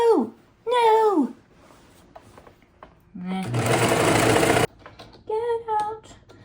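A sewing machine runs in one loud, close burst of about a second amid a quiet workroom, with short vocal squeals before and after it.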